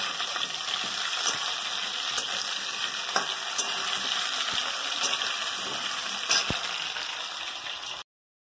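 Sliced potatoes fry in a pan of hot oil, giving a steady, close sizzle with occasional stirring clicks and no talking.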